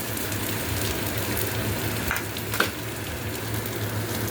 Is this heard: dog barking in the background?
no